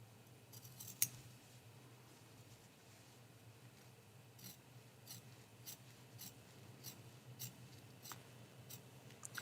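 Scissors trim quilt batting in a series of soft, close snips spaced a second or so apart, with faint rustling of the fabric between cuts, quiet and without talk.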